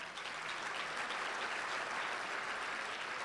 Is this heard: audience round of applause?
yes